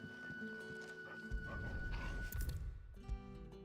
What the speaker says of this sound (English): Why can I not pet this dog?